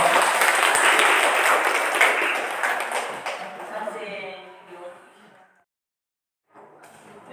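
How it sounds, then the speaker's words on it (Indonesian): A classroom audience claps for two student groups; loud, dense applause opens the scene, then thins out and fades to silence, with a few claps returning near the end. "mari kita berikan aplaus untuk kedua kelompok"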